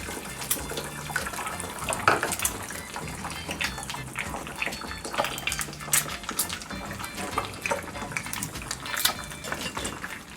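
Oil heating in a pan on a stove for frying eggs gives a steady, dense crackle of small bubbles and sputters, close and continuous, with no talking.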